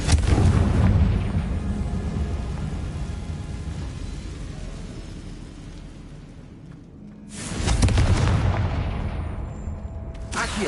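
Confringo spell explosions in Hogwarts Legacy, a loud booming blast that rumbles and fades over several seconds, followed by a second heavy burst near the end.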